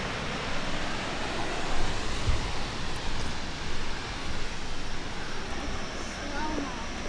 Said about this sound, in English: Everybody wants to have a glimpse of this enormous waterfall.